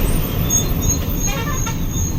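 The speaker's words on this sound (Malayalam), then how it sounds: "ഇത് ഇവിടുത്തെ പ്രൈവറ്റ് ബസ് കേട്ടോ." Private bus on a town road in Nalbari, Assam, with a steady close engine rumble and surrounding traffic noise, a few faint higher tonal bits over the continuous drone.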